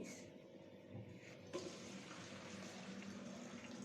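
Water running into a bottle as it is filled, a soft, continuous trickling stream heard faintly and alone, with a slight change in tone partway through.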